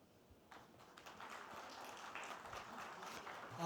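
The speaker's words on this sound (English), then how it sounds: "he needs bigger round of applause" Applause for a visiting speaker at a customs and trade facilitation business event, a soft, dense patter of clapping that swells gradually and sounds moderately distant in a hall.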